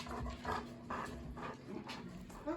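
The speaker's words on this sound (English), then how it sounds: "This is a dog that knows what's going on. He's hyperventilating." A dog pants rapidly and excitedly at close range, with steady, rhythmic breathy huffs and occasional whiny vocal tones over a constant background hum.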